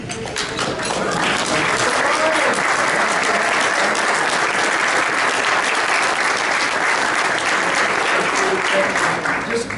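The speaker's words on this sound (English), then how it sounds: "let's stand and give him a round of applause" A club meeting audience gives a standing round of applause, dense and steady clapping from many hands that fills the room without a break.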